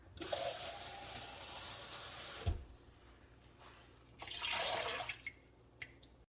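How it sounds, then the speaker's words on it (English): Water from cans pours into a pot for squash gummy candy in a home kitchen. Two separate splashing pours are heard, a longer one and then a shorter one, with quiet gaps between them. "I will be adding a couple cans of water."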